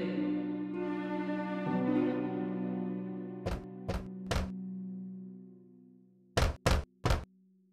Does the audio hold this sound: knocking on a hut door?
yes